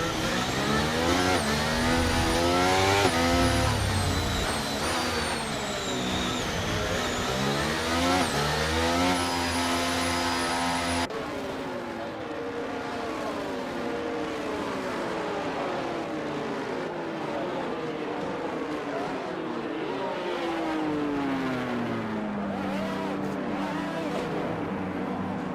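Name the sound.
F1 race cars on the grid in F1 23 video game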